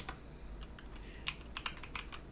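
Computer keyboard keys clack in a quick scattered run of light taps, a few sharper presses standing out, faint and close against a low steady hum.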